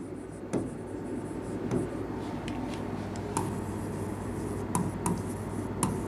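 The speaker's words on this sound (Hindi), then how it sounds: "मैं सेंटेंस आपका दोबारा लिखती हूँ" Faint chalk or marker strokes on a classroom board during a grammar lecture, with short intermittent scratches and taps in a quiet room.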